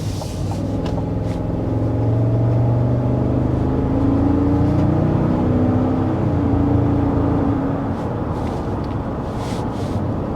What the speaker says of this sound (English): Gotta love the V8 burble